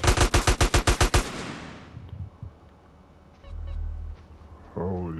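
Rapid bursts of automatic gunfire from GTA San Andreas Definitive Edition, about ten loud shots in quick succession, then a fading rumble of fire, a low engine-like drone and a short rising tone near the end.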